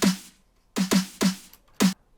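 Programmed drum beat with the weak-beat hits turned down in velocity: a few sharp, punchy hits in an uneven pattern, moderately quiet and alone.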